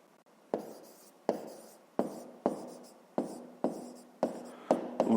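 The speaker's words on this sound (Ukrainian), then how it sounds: "Ну і записуємо." A pen scratches out figures on paper while a fifth-grade maths exercise is worked through, producing a series of short, crisp strokes roughly every half second that fade quickly. The strokes are close and quiet, with no speech.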